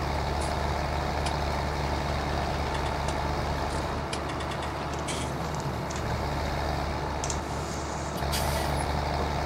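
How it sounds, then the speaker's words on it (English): Trucks passing on a nearby road beside a farm field, a continuous loud engine rumble with short hissing bursts like air brakes, steady throughout and with no talk. "Traffic down on the bottom road there."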